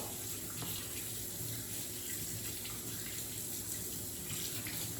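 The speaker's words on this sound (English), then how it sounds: "All right, and then I am gonna wash my hands and Quartzy can start kneading this." Hands are washed under a running tap at a sink, with a steady, even rush of water that fills the whole clip at moderate level and no voices over it.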